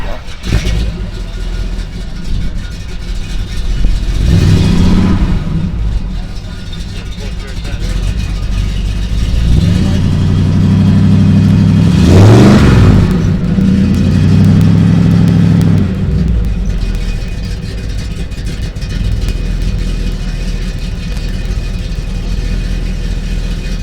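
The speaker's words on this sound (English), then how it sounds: "It's a dual exhaust, but it's got all the resonators and everything that's supposed to have." A 1961 Chevrolet Impala Bubble Top with dual exhaust and stock resonators revs up twice, rising and falling in two loud swells over a steady idle, with talk running underneath.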